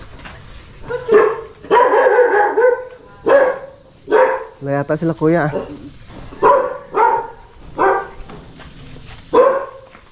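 Young puppies barking near a house: repeated sharp yips and barks in an irregular run, with a whimpering, wavering cry in the middle, close and loud, while a person speaks briefly.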